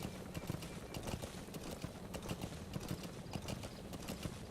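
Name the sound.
horse D-Horse hoofbeats in video game Metal Gear Solid V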